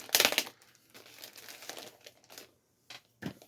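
Protective packaging on a box containing an LED light box display is torn and crinkled open, loud crackly bursts at first, then softer rustling with brief pauses and a couple of short sharp crinkles near the end.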